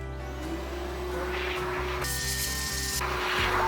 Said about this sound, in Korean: 그라인더를 청소를 할 때에는 그라인더 전용 청소기 하나가 있으면 더 좋은데